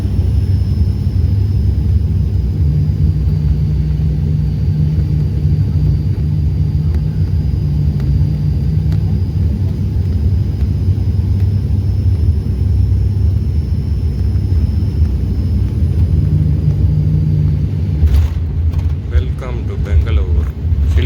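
A passenger airplane landing at Bengaluru fills the cabin with a loud, steady low engine rumble and roar, continuous from start to finish.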